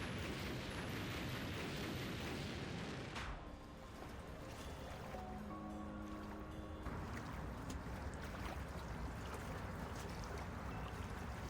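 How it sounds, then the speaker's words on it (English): A rumbling explosion in the detective adventure game Master Detective Archives: Rain Code, a broad roaring wash with a brief dip partway through, then sustained noise, with no voices over it. "the explosion did do something"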